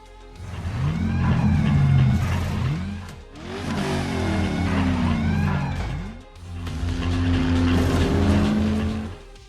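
Race cars speed through an action-movie death race, engines roaring and revving in three long loud passes with falling pitch, tires squealing between them, no speech.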